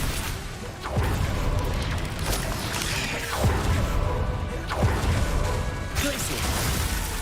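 An Expelliarmus spell cast in a wizard video game: loud, continuous magical effects with several sweeping whooshes and booming impacts spaced a second or two apart, no clear voice over them.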